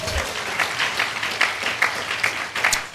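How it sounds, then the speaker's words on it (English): A church congregation breaks into a big round of applause, dense clapping with scattered louder claps and slight swells, fairly close and filling the room without speech. "Give him a big round of applause."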